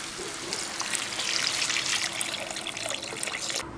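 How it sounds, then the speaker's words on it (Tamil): Water poured into a pan of fried vegetables for khichdi in a continuous splashing stream for a few seconds, fairly quiet, ending abruptly. "இதில் ஒரு 3 கிளாஸ் தண்ணி சேர்த்துக்கலாம்"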